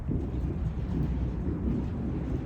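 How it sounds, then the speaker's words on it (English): A low, continuous rumble of thunder rolls on for the whole stretch, deep and steady, with no voices. "can you hear that thunder?"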